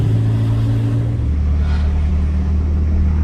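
A car with a burble exhaust tune idles and revs, giving a steady, loud, low engine rumble close by with a slight shift in pitch partway through.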